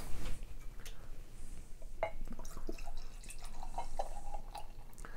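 Samichlaus 2014 vintage beer, a strong malty lager, trickles into a glass in a short, quiet pour, with faint splashing and a few light clinks of glass.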